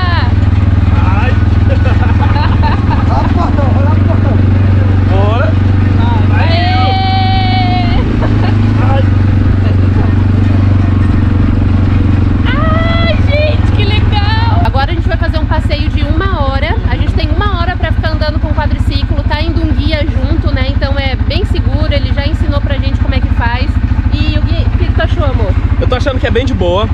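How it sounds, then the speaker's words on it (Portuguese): Quad bike (ATV) engine running steadily throughout a sightseeing ride near Natal and Parnamirim, Brazil, a loud continuous drone close by with a voice talking and exclaiming over it. "primeira vez que eu vou fazer o passeio aqui de quadriciclo"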